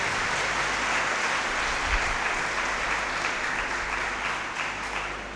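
A church congregation at Sunday Mass claps together in loud, dense, continuous applause that fills the whole stretch without pause.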